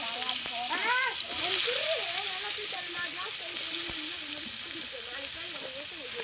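Mustard seeds and onion sizzle and hiss in hot oil in a pan, a steady close frying sound, while a person talks over it.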